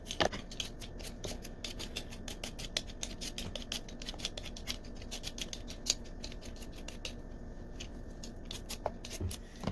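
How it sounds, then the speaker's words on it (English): Potatoes being peeled by hand at a table, a rapid series of quiet, close scraping strokes in an uneven rhythm with a few louder knocks. "Alright, so time to peel."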